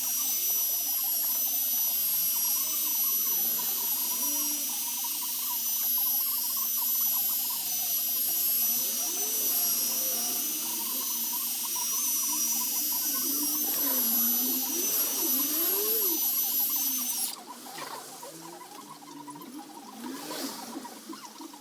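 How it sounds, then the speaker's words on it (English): Car polisher running at speed 2 on a tail light, giving a steady high-pitched motor whine over a low hum, with scraping pad noises; the level drops slightly near the end. "we're going to take it up to speed 2 now, just to increase the actual cut from the polisher"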